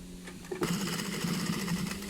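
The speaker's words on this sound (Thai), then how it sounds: "นี่เย็บผ้าหนานะครับนี่เย็บผ้าหนา เย็บผ้าหนา" A sewing machine stitches through thick fabric, starting with a short burst and then running in a steady, rapid mechanical chatter with a low motor hum, close and fairly loud, with no talking.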